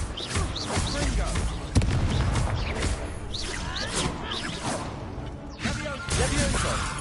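Spell-casting whooshes and sharp bursts from the Confringo fire spell in Hogwarts Legacy, quick repeated impacts amid busy combat effects, with a voice calling out over the action.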